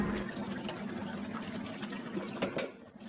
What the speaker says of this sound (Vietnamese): Mình rửa dưới cái vòi nước cho nó trôi đi những cái gì nó còn bám ở trên miếng xương nè.